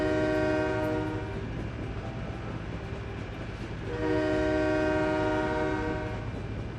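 In the SimCity 4 video game, a train sounds its horn at a railroad crossing with two long, loud, steady blasts separated by a short gap, over the rumble of the train, with no voices.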